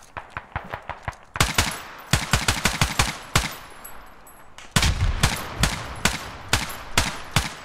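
Machine gun fire in the military shooter Squad, loud sharp bursts of rapid shots in rhythmic strings separated by short pauses, then a heavier sustained volley, close by and with no talking.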